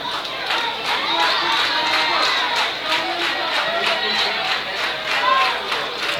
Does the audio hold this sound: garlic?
no